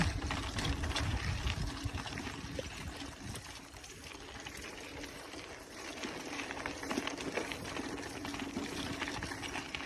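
The Ambo waterfall near Patharkot pours down in a steady, full rushing wash of water that stays loud and constant throughout, with no voices over it.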